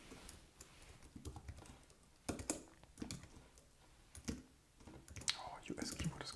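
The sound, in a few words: typing on a US computer keyboard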